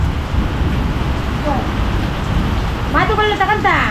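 Steady rain hisses throughout, loud and close, with a couple of brief voices or calls rising over it near the end.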